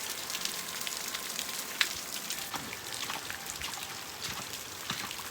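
Heavy rain pours at night in a mountain village, a dense, steady hiss of falling water with scattered sharper drips and patters, continuous and fairly close.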